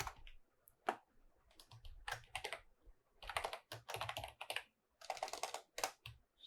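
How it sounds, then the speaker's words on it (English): Bursts of typing on a computer keyboard while entering a domain name during an Apache SSL setup, irregular clusters of close, crisp key clicks with short pauses between runs, no talking. "Type in your domain name"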